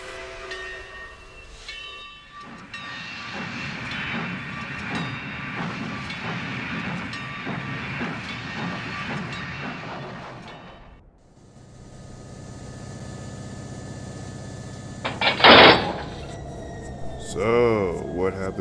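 A train rumbles steadily along the rails with rhythmic clacking, then quiets before a sharp hiss of steam and a few squealing tones near the end.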